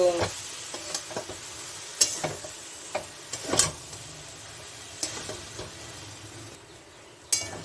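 Cashew, green chili, poppy seed and ginger paste goes into a hot pan for a vegetarian jackfruit curry, giving a soft sizzle with scattered scraping stirs and light clicks and a brief quieter gap near the end, with no talking.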